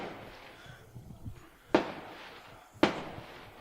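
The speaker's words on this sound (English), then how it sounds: "Somebody's launching fireworks in our backyard" Fireworks are launched in a backyard, giving two sharp, loud bangs about a second apart over faint background noise, with a few softer pops and rustles before them.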